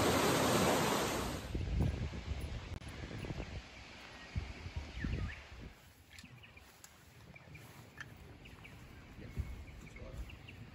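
Steady broadband rush of a running river, close and continuous, with faint birds and occasional light knocks in the background, at a campground in Bright, Victoria, Australia.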